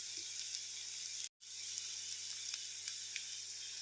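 Ginger, chilli and garlic sizzle in hot oil with salt for lemon pickle: a continuous, fairly faint hiss and crackle with a brief dropout partway through.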